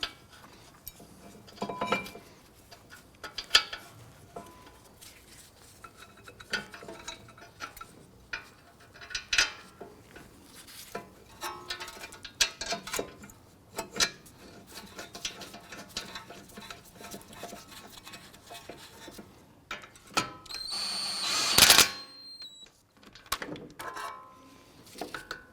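A brake caliper bracket is fitted onto the front brakes of a 2004-2008 Acura TL, with scattered metallic clinks, taps and rattling of parts and tools close by, plus a louder clatter near the end.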